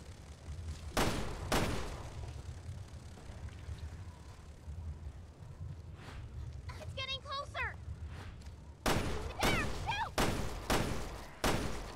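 Gunfire in the video game Resident Evil: Revelations 2 comes as sharp, loud shots spread across the span, with a tight cluster near the end. Excited voices talk and shout between and over the shots.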